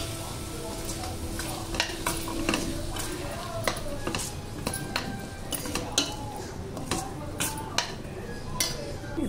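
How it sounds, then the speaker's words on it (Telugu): Chopped carrots and green peas are stirred in a cooking pan, with a spoon clinking and scraping in irregular taps over a soft background sizzle. "ఇప్పుడు కట్ చేసి పెట్టుకున్న క్యారెట్, అలాగే వాష్ చేసి పెట్టుకున్న గ్రీన్ పీస్ వేసి బాగా కలుపుకోవాలి"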